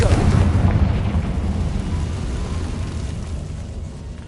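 A Confringo blasting spell bursts in Hogwarts Legacy with a loud, rumbling explosion that hits at once and slowly fades over a dense low roar.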